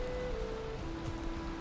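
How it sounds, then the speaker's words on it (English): Steady rain patters and hisses across the Valheim landscape, a constant soft wash with a faint tonal hum beneath it. "Explore in the rain."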